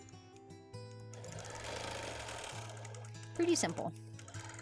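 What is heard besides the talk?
sewing machine stitching in the ditch on a quilt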